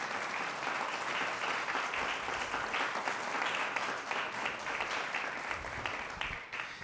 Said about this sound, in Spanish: Dele un aplauso al Señor si se lo quiere dar